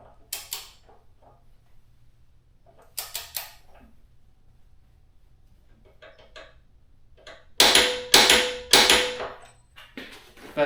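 Torque wrench set to 113 newton meters tightening a nut on a Honda motorcycle during a tyre change: sparse mechanical ratcheting, then a loud burst of sharp clicks near the end, close up with no talk.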